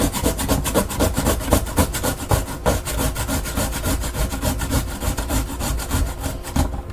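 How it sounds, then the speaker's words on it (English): Raw unpeeled potatoes are grated on a mandolin for potato pancakes, making loud, rapid rhythmic rasping strokes that repeat steadily and close up throughout with no talk. "when you're using a grater, or if you're doing like me with a mandolin"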